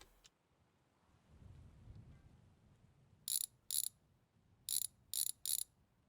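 A ratcheting wrench being worked on a car wheel in a home garage, with the car raised in the air: five short, sharp bursts of clicking come close together after a stretch of quiet low rumble.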